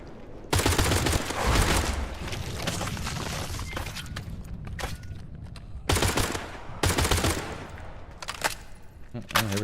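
Rapid bursts of gunfire from a wildly inaccurate gun in the survival game Pioner against zombies, sharp loud volleys in clustered strings with short pauses between them, a voice talking now and then.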